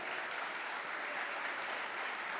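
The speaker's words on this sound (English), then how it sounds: "Give her a round of applause." Sustained audience applause at an award ceremony, a dense steady wash of clapping filling the whole stretch at even loudness with no voices breaking through.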